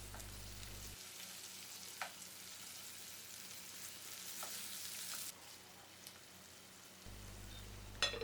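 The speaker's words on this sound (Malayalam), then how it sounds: "മീഡിയം ഫ്ലെയിമിൽ വെച്ചിട്ട് വറുത്തെടുത്താൽ മതി" Chicken pieces for butter chicken frying in a pan over a medium flame give off a steady, close sizzle with a few sharp pops and clicks scattered through it.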